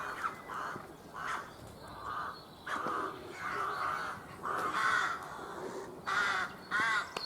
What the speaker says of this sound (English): we've got a mini rookery here